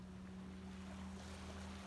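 Waves wash steadily onto a river beach at Woudrichem, a constant low rushing surf mixed with a distant boat engine drone and wind, with no talking.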